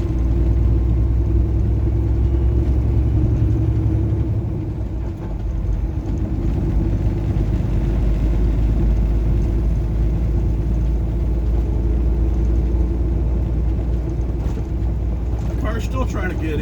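Steady car and truck traffic on a Dallas interstate, heard as a continuous low road rumble with wind noise from inside a moving vehicle, unbroken for the whole stretch.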